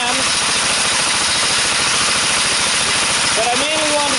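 A nearby engine idles while driving a DC generator, giving a loud, steady chug of rapid, even firing pulses, with a brief rising whine near the end.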